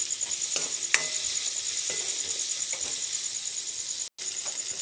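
Cut potatoes in hot oil with turmeric fry with a steady, close hiss, broken by a few soft stirring knocks and a brief drop near the end.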